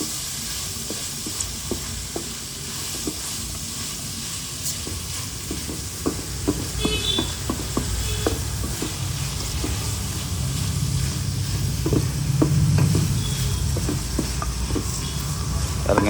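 Chicken liver sautés in oil, a low steady sizzle under repeated clicking taps of a spoon stirring against the pan, close and fairly loud.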